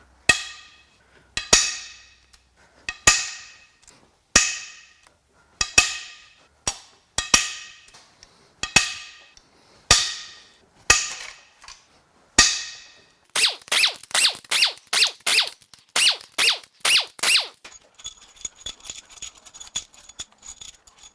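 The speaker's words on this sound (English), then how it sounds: "Let's crack these head bolts loose" A breaker bar cracks loose cylinder head bolts one after another on a BMW N63 twin-turbo V8 during a teardown, giving sharp metallic snaps at a steady pace. A quicker burst of clicking ratchet strokes follows near the end.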